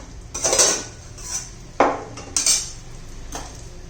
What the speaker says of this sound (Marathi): आता झाकण काढून पाहूया